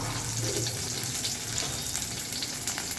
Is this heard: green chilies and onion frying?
yes